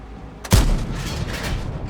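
A Strv 103-0 tank cannon fires once in a video game, a single loud, heavy boom with a sharp onset and a long rumbling tail that fades slowly.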